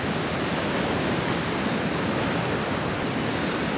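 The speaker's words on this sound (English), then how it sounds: "You can hear that sea behind, it's crashing over the wall over there." Rough sea crashes over a harbour wall on the Isle of Wight at Freshwater Bay, heard as a steady, loud broadband roar of surf filling the whole stretch with no pauses.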